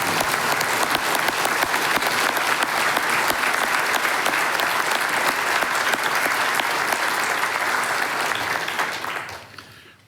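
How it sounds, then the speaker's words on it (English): Applause breaks out at a city council meeting for a police chief, loud and dense clapping held steady for several seconds before tapering off and fading out at the end. "Let's give him a round of applause."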